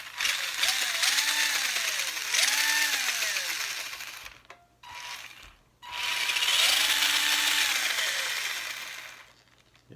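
A Tamiya Comical Grasshopper RC buggy's pre-assembled gearbox without ball bearings drives in repeated runs, each a close whirring gear whine that rises and falls in pitch, separated by brief pauses.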